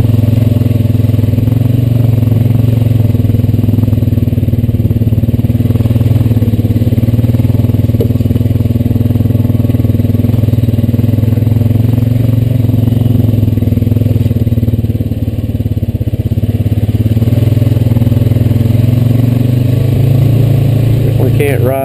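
A Honda Rancher 420AT ATV engine drones loud and close on a wet, muddy trail ride, a steady low hum with slight rises and dips in revs and clattering underneath.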